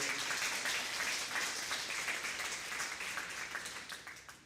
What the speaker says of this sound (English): so let's give them a round of applause for this good food, for this good dandelion latte